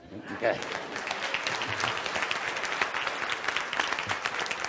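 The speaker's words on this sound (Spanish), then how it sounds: "Eso merece un aplauso." An audience at a motivational talk breaks into applause, a dense sustained clapping from many hands that stays steady and moderately loud for the whole stretch.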